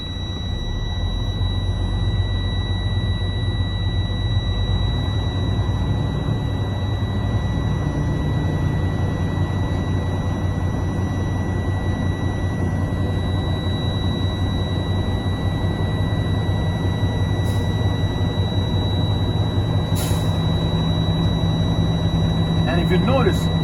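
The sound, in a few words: truck engine running, building air pressure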